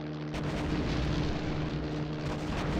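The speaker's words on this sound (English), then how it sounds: "Now we're going to bomb things." Bombs going off in the PC flight game ACM 1918, a loud, continuous roar of heavy blasts that swells after a brief opening and holds dense and booming throughout, with no talk.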